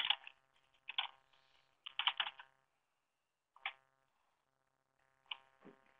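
Crisp computer keyboard typing in short clustered bursts of key clicks separated by silent pauses, close and clear with no talking.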